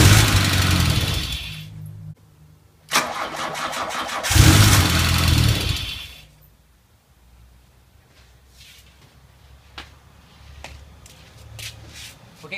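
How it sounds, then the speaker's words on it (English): A 1980 VW Mk1 Rabbit convertible engine cranks over and catches in short, loud bursts, then dies away to quiet, with faint small clicks and ticks in the background afterward. "okay, so it's turning over and it's firing"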